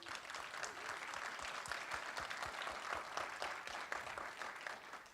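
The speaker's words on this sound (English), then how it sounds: "So give yourself a round of applause, and also Bala." A large audience at a Startup Iceland entrepreneurs' event applauds steadily, dense continuous clapping with a few sharper claps standing out, sustained at even loudness throughout.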